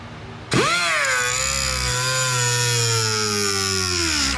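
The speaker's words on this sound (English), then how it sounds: "We're going to use a air-powered die grinder." An air-powered die grinder spins up sharply and then whines steadily at high speed, cutting into the metal housing of a fuel pump from a 1994 Jeep Grand Cherokee, loud and close with no talk.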